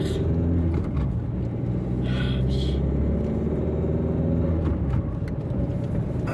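A car drives along a road with a loud, steady engine rumble and tire noise throughout, and a brief higher whoosh passes early on.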